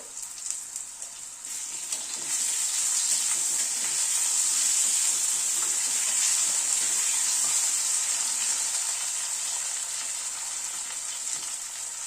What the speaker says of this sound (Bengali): আলুটাকে লাল করে ভেজে নিলাম।